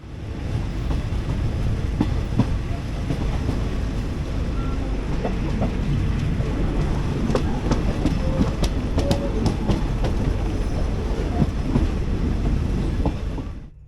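Thailand's jungle express night train rolls steadily along the rails, a continuous loud rumble of carriages with rhythmic clickety-clack and metallic rattles throughout.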